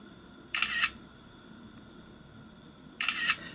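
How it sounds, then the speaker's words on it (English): A GooPhone i5c, an iPhone 5C clone, firing its camera shutter sound while taking photos: two crisp, bright mechanical clicks about two and a half seconds apart, each a quick double snap, close and clear over a faint background hiss. "even the sound is very similar to the real iPhone sound for taking photos"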